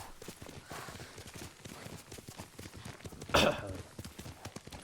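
Steady clip-clop of horse hooves at a riding pace in the video game Ghost of Tsushima, repeating rhythmically with a brief louder burst partway through.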